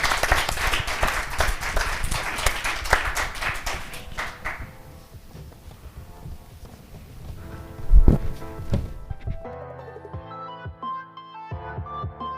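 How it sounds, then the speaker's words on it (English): A crowd at an exhibition applauding the space group, a burst of clapping for a few seconds that fades away, followed by a brief thump and a short musical jingle. "So give the space group a round of applause for more questions."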